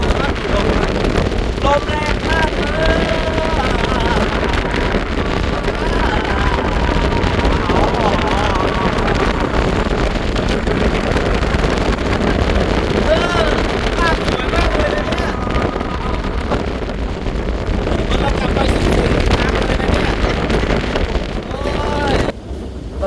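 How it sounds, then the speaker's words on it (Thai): Strong wind blowing outdoors on a cold, stormy day by a rural lane near cassava fields, rubber plantations and forest, a loud continuous buffeting roar against the microphone while someone talks over it throughout. "ลมพัดนะฮะ ทั้งลมทั้งหนาวทั้ง พายุคาเมกี"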